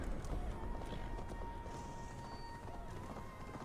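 Horse hooves clop in a steady galloping rhythm in the video game Assassin's Creed Valhalla, set over a continuous low game ambience with faint tonal music, moderately loud and without a break.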